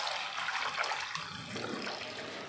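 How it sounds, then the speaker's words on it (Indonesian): Cincau leaves rinsed under running water, a steady close splashing and gushing with some swirling and dripping, no voices present. "Lalu daun cinconya ini kita cuci. Ini bilas beberapa kali"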